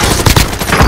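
Video game gunfire: loud, rapid bursts of shots crackle close up in a dense, continuous volley lasting under a second.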